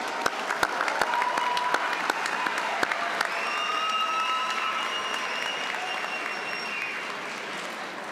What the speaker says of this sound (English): Let us share another round of applause for the great accomplishments.